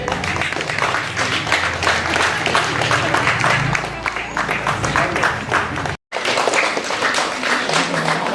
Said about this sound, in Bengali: সঙ্গে ৭৫তম বর্ষে হাততালি দেবে